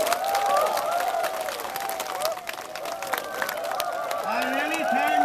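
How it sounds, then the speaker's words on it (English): A crowd at a BJP rally claps in a sustained wash of applause from many hands, with scattered shouts and cheers over it, loud and continuous throughout. "Give me a clap."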